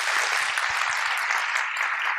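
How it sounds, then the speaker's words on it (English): Sustained applause from a conference audience for early-career scientist speakers, dense steady clapping throughout at an even loudness, with no voices standing out. "One last final applause for all the speakers this afternoon."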